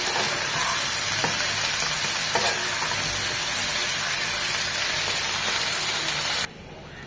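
Flat beans sizzle lightly in hot oil in a pan, a steady close frying hiss with faint stirring clicks that continues without a break before cutting to a quieter hiss near the end.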